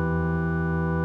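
A synthesized chord sustains evenly from a voice-triggered plug-in set to chord mode, its stacked tones holding steady for about a second with no talking over it.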